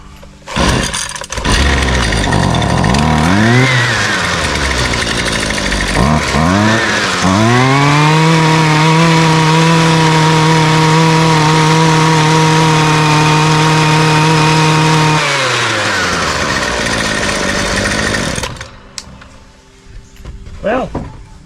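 A petrol weed trimmer with a starting fault sputters through a couple of brief pull-start attempts, then catches and runs at a loud, steady buzzing idle for several seconds before revving down and cutting out.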